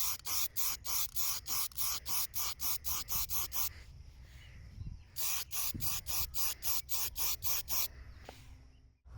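An aerosol paint can sprays over a shooting target in rapid bursts. The short hissing puffs come in a fast series, stop for a quieter stretch, then resume close and loud.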